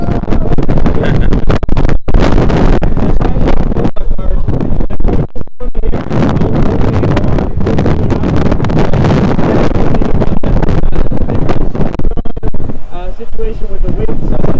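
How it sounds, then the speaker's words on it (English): Strong beach wind at Zandvoort circuit buffets the microphone in loud, continuous gusts and rumbling roars, with a voice talking underneath. "You can now feel the wind starting to blow through our ears."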